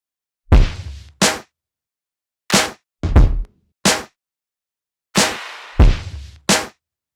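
Snare and clap drum samples in a hip-hop beat, sharp cracking hits in an uneven pattern, some in quick pairs, loud and dry with silence between them.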